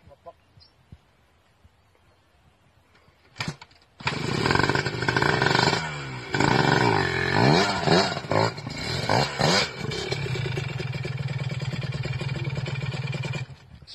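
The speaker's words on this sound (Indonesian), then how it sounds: "Kalau yang ini mesin ninja" A Kawasaki Ninja 250cc motorcycle engine starts and revs hard, rising and falling in raspy bursts before settling into a loud, steady idle close by.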